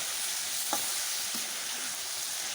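Beef cooking in a pot over a wood fire, stirred with a few soft scraping strokes over a steady, loud sizzle and crackle, no voices.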